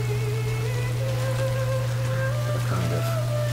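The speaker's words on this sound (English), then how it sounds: "this isn't the kind of rain you want to get splashed by" Rain falls in the video game Death Stranding, a soft, even patter of drops over a steady low drone, continuous and fairly quiet.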